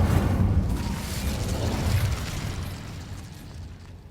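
A fiery burst from the Incendio spell in the game Hogwarts Legacy roars up loud and close, a rumbling whoosh of flame that slowly fades away over a few seconds.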